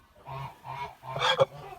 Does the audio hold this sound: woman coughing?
no